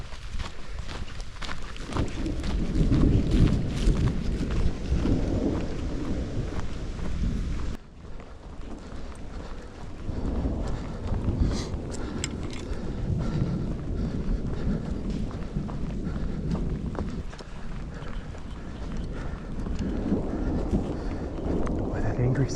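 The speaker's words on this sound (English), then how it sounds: "It's really rumbling out there now." Low thunder rumbling across an open mountain sky during an archery elk hunt in Colorado, a deep rolling roar under wind buffeting the microphone, with brushing movement and footsteps nearby.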